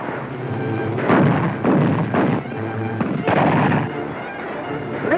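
Several gunshots ring out in a 1939 western, booming in bursts with short gaps between them over a thin old soundtrack.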